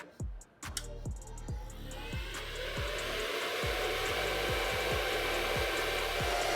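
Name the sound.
Bitcoin mining machine running, 80 to 90 dB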